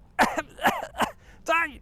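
Four short, close coughs in quick succession, the last one rougher and more voiced.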